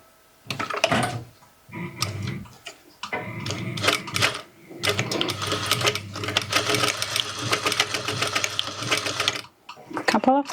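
A sewing machine stitches across zipper teeth in bursts of rapid mechanical clatter, with short pauses between runs. A longer steady run follows, and a brief final burst ends it.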